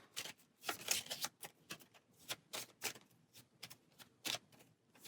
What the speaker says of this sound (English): So now we'll shuffle.